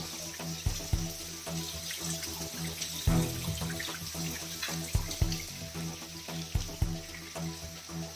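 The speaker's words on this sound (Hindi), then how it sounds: "ये झरना चालू माता जी के मंदिर के पीछे" Waterfall flowing behind a mountain temple on Mount Abu, a steady rush of falling water with splashy broadband texture throughout, joined by a few louder thumps and knocks, with no talking.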